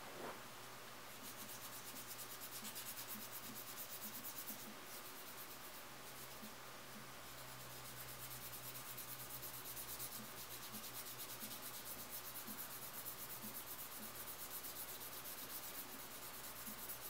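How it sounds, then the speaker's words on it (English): A sanding stick rubs steadily over plastic parts from a Tamiya 1/35 Jeep model kit, a close, continuous rhythmic scratching hiss that carries on throughout with no talk. "These sanding sticks are really good."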